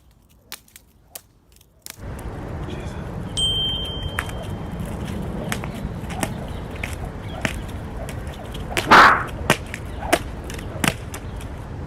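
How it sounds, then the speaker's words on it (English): A jump rope slapping the ground during a workout, heard as sharp isolated cracks and swishes scattered over a faint steady background, one louder whoosh near the middle. "you might end up slashing the ground with your rope like this"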